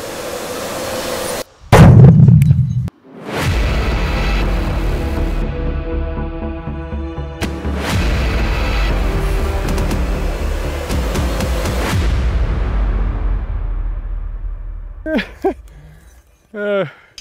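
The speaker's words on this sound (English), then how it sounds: "explosion time." A loud blast set off during outdoor shooting tests with a Sig X-Ten 10mm pistol: a sharp boom near two seconds, then a long rumbling roar that fades away, with brief clicks and a few short sounds near the end.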